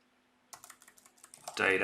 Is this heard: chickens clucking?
no